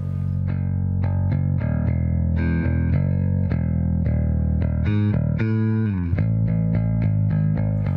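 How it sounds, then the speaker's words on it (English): Bass guitar notes through a compression pedal and a 200-watt amp with 4x10 and 2x15 cabinets, played in a steady sequence, smooth and evenly sustained with compressed, consistent loudness, plus a sliding note near the end. "Here I am using a bass pedal with built-in compression, which produces very smooth and nice sounding tones."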